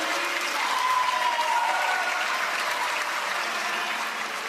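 A hometown crowd at a Major League Pickleball event in Columbus, Ohio applauds and cheers, a steady broad roar of clapping that holds at an even level with no break.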